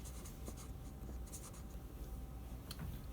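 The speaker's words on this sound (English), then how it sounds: "So we write Maria." A pencil scratches steadily across paper in short strokes, close and faint, over a constant low background hum.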